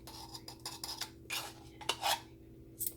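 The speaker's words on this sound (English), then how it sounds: "we're gonna put 2 tablespoons of baking powder in our mix here" Spoonfuls of baking powder go into a mixing bowl for a cream cheese caramel pound cake, with light scraping taps of a metal spoon against the bowl coming in short irregular bursts, close and fairly quiet.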